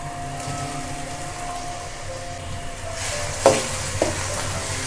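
Tomato masala with ginger-garlic paste and browned onions sizzles in a kadhai as it is stirred, a steady hiss broken by a couple of sharp scraping clinks near the end.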